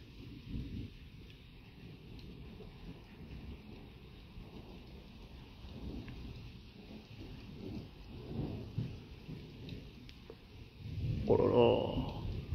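Heavy rain pours steadily through a strong nighttime electrical thunderstorm, with a loud rumble of thunder building near the end, and a faint voice is heard.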